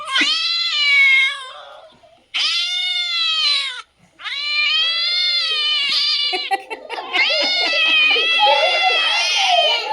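A cat meows loudly several times in a row, long wailing cries with brief pauses, up close.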